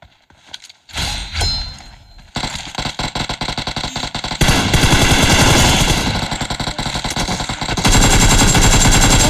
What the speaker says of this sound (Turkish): Oo M249 vardı bunda.